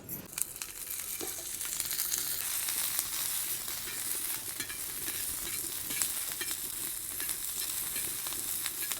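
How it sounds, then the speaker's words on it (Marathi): Green chillies roasting in oil on a tawa, a continuous crackling sizzle with frequent small pops and scraping stirs, close and steady throughout, with no voices. "मिरच्या आहे ना थोडशा त्याच्यात भाजून घेते एक साईडला थोडंसं तेल टाकावं लागेल ना तेल टाकते ना"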